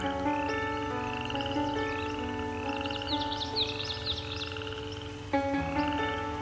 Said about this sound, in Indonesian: Sadari suara kodok dari kejauhan.